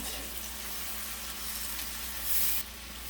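Garlic sizzles in hot oil in a pan while braised short ribs are being made, a steady close frying hiss with a low hum underneath and a brief brighter flare near the end.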